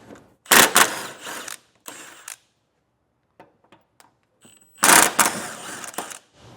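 Ratchet removing the 17mm bolts from a vehicle's recovery hook, close rapid clicking bursts of the pawl separated by quieter pauses, with a few faint taps and no talking.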